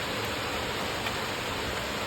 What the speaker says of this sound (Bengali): পুরো বৃষ্টি পড়ছে, ছাদ পুরো ভিজে গেছে,